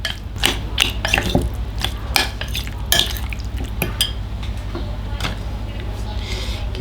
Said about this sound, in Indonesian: Kita aduk sampai semuanya tercampur rata.